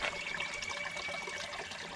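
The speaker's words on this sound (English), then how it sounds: "I actually found another little spot right here where the water is coming out from another area" Spring water trickles steadily out of a creek bank from behind a rock, a soft continuous running and splashing held close and fairly quiet, with no voices over it.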